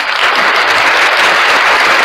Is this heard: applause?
yes